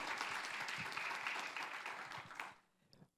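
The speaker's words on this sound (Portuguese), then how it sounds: "Uma salva de palmas para a nossa colega" Audience applause at a national meeting of health surveillance laboratories, quiet and distant, holds steady then fades out abruptly near the end, leaving near silence with a faint final clap or knock.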